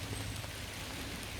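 Steady tropical rain hisses as a dense, even wash of drops on surfaces, continuous and moderately close with no voices.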